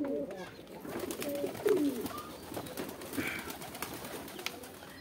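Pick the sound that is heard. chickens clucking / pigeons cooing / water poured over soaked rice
pigeons cooing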